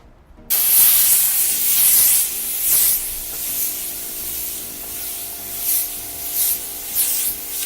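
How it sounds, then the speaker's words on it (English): Compressed air blows sawdust off the wooden surfaces inside a van under build, as a loud, close hissing blast with repeated surges and dips in strength. "First, actually, we want to blow off all the sawdust from before."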